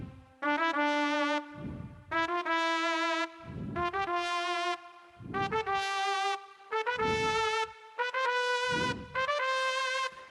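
A melodic instrument plays a musical turn ornament as a practice example, repeated five times: quick grace notes into a held tone, each phrase separated by short gaps, clear and moderately loud.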